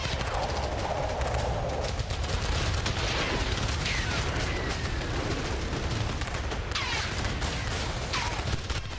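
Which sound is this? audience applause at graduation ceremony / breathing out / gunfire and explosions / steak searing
gunfire and explosions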